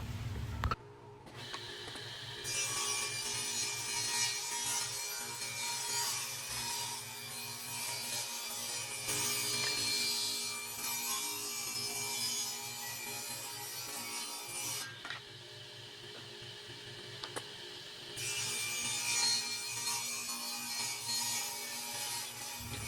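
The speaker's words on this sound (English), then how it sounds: "So at the table saw, we could cut it down to the desired width that we needed." Wooden boards being cut to width on a table saw, a steady close whirring hum broken by long stretches of bright, rasping cutting noise that stops and starts again.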